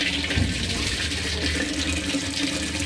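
Cold water runs steadily from a tap while a used appliance is tested, a continuous close hiss and splash with no talking.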